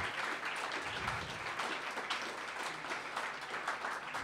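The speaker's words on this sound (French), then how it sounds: "on peut encore là une bonne main d'applaudissements pour toutes les personnes qui ont présenté ce soir" Audience applause at an evening tech presentation event, a steady, full crowd of clapping hands sustained evenly for several seconds, moderately distant.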